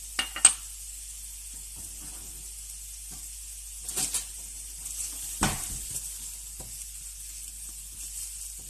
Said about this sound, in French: Et nous allons commencer avec l'oignon. Nous allons le faire revenir jusqu'à ce qu'il soit transparent.